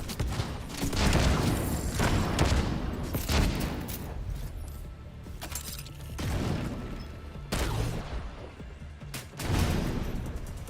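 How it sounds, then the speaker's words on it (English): Grenade blasts in The Division 2, a shooter game, arrive as sharp broadband bursts amid continuous heavy gunfire and combat noise, loud and repeated across the battle with brief quieter gaps between volleys. "Throwing grenade!"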